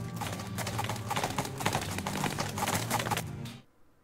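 A stampeding cow herd in the video game West of Loathing thunders past as a dense, rapid clatter of many hooves, loud and steady before cutting off abruptly near the end.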